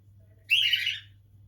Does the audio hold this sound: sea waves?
no